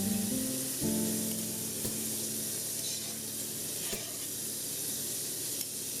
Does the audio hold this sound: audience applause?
no